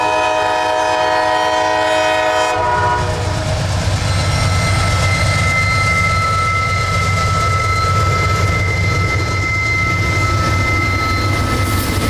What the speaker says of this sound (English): the opposing train that was a northbound I-178, coming westward from Winter Haven, turning north onto the Vitus subdivision here at the junction